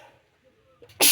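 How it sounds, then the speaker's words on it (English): A single sudden sneeze bursts out loud and close at the very end, after a quiet stretch with faint low murmuring. "I gotta sneeze."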